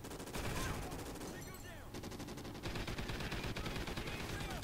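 Rapid turret gunfire from the video game Call of Duty Ghosts, a dense continuous burst of shots running loud through the whole stretch amid other game sounds.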